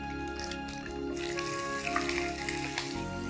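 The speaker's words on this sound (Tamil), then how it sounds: "இப்போ வெங்காயம் பச்சை மிளகாய் அதுல போட்டாச்சு. இது நல்லா வதக்கணும்." Sliced onion and green chillies fry in a pan on a TV cooking show, giving a continuous close crackling sizzle with faint stirring and no talk over it.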